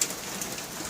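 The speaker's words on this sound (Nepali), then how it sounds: "यो पुरै असिना परेको" Hailstones falling outdoors, a dense, even patter of countless small impacts, steady and fairly close, with no voices.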